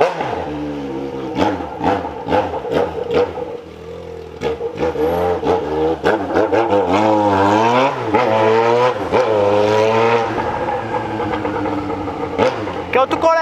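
A Jaguar XJ6 with a straight-pipe exhaust revs repeatedly at night on a street in Tatuapé, its engine note rising and falling up close while people talk nearby.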